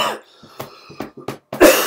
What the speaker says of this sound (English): I've got a bit of a cough today.